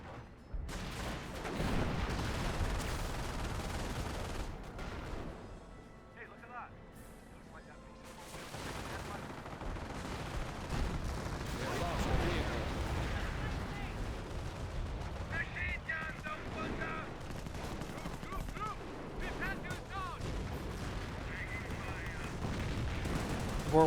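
Whirlwind anti-aircraft guns fire continuously in a Company of Heroes battle, with rapid bursts of autocannon fire, distant artillery booms and dense battlefield noise, partly under a commentator's voice.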